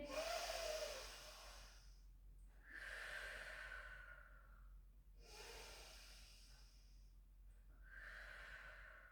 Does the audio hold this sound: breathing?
yes